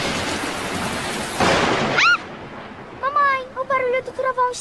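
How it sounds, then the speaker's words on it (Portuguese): Loud rolling thunder from a cartoon storm rumbles under steady rain, then fades as children's voices speak over it. "o barulho do trovão está muito alto"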